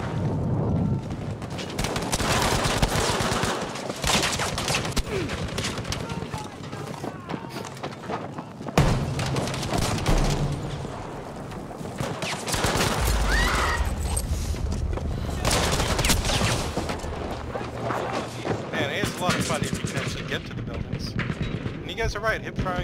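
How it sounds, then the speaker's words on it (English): Hip-fired bursts from an MP40 submachine gun in Battlefield V on the Narvik map, mixed with dense surrounding gunfire, explosions and game noise, loud and continuous throughout. "Right, hip firing this MP40 works pretty well."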